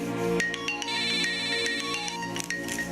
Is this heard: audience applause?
no